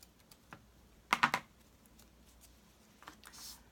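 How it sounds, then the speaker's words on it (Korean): Scissors snip craft ribbon or material during a glue-gun bow project, a short cluster of two or three quick crisp cuts, close and moderately loud, in an otherwise quiet room. "여기를 또 가위로 잘라주고"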